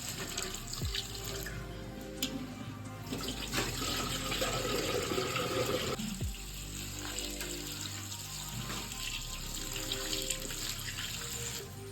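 Tap water runs steadily into a sink while fenugreek (methi) leaves are washed, a continuous close splashing stream with small shifts in flow and no talking.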